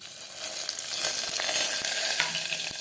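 Spices tipped into hot oil, with dry red chillies, bay leaves and ginger mentioned alongside, set off a loud, continuous hissing sizzle, with a few light clicks of ingredients landing in the pan.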